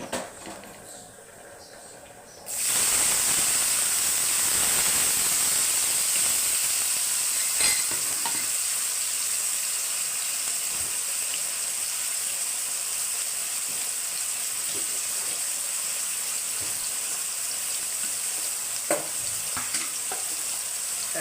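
Spices and curry leaves for a cluster bean masala curry fry in hot oil over a full flame, a steady loud sizzle that starts abruptly and continues with occasional stirring clicks, with no speech.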